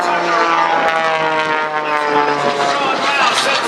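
A propeller aerobatic airplane flown at an air show roars loudly and steadily overhead with a droning engine note. An announcer's commentary runs over the engine noise.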